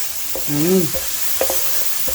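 Fish with ginger stir-fries in black bean sauce, a steady close sizzle broken by a few scraping strokes of a utensil, with a brief voice-like tonal sound partway through.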